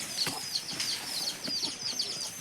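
Chickens clucking close by in quick, repeated bursts, with a few scattered birdlike calls and light rustling around them.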